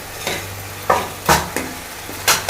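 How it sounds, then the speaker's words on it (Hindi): Hot tempering for dal sizzles in a kadhai, with several sharp scraping stirs at irregular intervals over a steady frying hiss. "दाल में लगा रही है तड़का"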